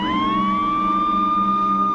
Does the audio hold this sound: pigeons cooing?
no